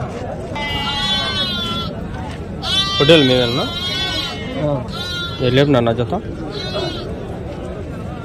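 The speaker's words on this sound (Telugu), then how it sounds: "చాలా ఉన్నాయి గొర్రెలు" Sheep bleat repeatedly at the weekly Saturday-morning sheep market in Angallu, several loud, wavering calls close by in bursts, with people talking over and between them.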